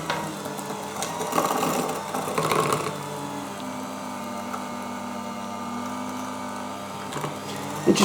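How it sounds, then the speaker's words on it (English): An electric kitchen mixer runs steadily at low speed, whirring through margarine and flour for a chocolate cake, with a continuous motor hum and a few louder clatters near the start and end. "Now I'm going to use my electric mixer."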